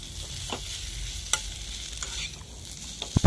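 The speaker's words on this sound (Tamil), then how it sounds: "மசாலா நல்லா கிளறி நல்லா எல்லா இடத்துலையும் படுற மாதிரியும் நல்லா பற்றி வச்சுக்கோங்க" Samosa masala filling is stirred in a pan. Soft scraping and a faint sizzle run throughout, with a few louder clinks of the spoon near the end.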